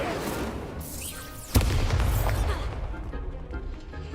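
Incendio fire spell cast in Hogwarts Legacy, a rising whoosh ending in one sharp fiery burst that rumbles and fades over a few seconds.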